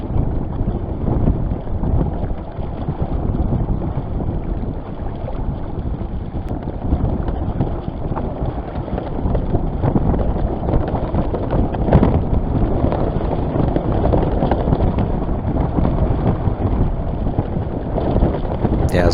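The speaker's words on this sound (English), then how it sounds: "here the main is really flapping, and it pains me to hear and see that" A sailboat's mainsail flaps hard in strong wind while the overpowered boat heels, a steady roaring rush of wind buffeting the microphone with rapid fluttering sailcloth underneath, continuous and loud throughout.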